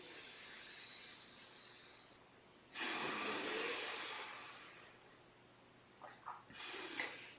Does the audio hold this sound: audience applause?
no